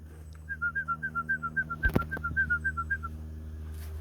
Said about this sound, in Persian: به صدای سوت برای دون گرفتن